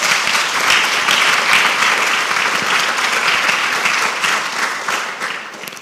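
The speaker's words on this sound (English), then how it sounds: "Give yourselves a round of applause" A secondary school graduation crowd applauds loudly and continuously, a thick, even roar of clapping from many hands that eases off slightly toward the end.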